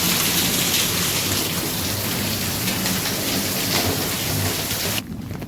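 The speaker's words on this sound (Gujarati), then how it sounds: "કરા પડ્યા ને વરસાદ થયો બહુ" Heavy rain pours steadily during a thunderstorm with hail, a dense, loud, continuous roar with low rumbling underneath, cutting off abruptly near the end.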